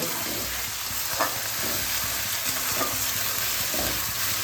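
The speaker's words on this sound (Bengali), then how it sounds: "এবার আমি এর মধ্যে জিরে ধনে বাটাটা দিয়ে দিচ্ছি ভালোভাবে মশলাগুলোকে একসঙ্গে কষিয়ে নেব" Cumin-coriander paste and spices fry in a pan for a sea fish curry, a steady close sizzle broken by a few scraping stirs of the spoon, with no voices.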